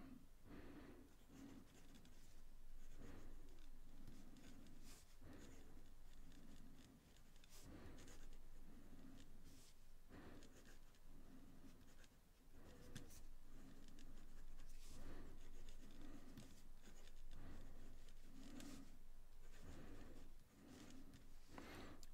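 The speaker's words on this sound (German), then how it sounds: "Dann könnt ihr euch mal anhören, wie der Stift hier über das Papier gleitet." A Leonardo Momento Zero fountain pen with a steel nib glides across paper in a quiet, soft scratching rhythm of strokes, recorded close up against a low background hiss.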